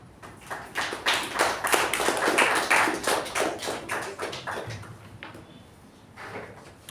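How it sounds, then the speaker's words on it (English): A small audience at a Toastmasters meeting claps to welcome a speaker, a burst of sharp claps that swells quickly, holds for a few seconds, then thins out and fades near the end. "With a huge round of applause, let's welcome our third speaker for the day"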